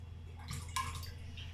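A small amount of water poured into a bowl in a kitchen, a short soft splash and trickle of about a second, fairly quiet and close, over a low steady background hum.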